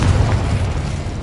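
Confringo fire-blast spell exploding in Hogwarts Legacy, a dense, loud, booming burst of rumbling noise that fills the whole short moment without pause.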